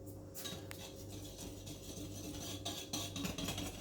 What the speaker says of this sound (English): And you just whisk up all those ingredients